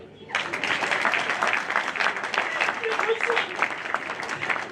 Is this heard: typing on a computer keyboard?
no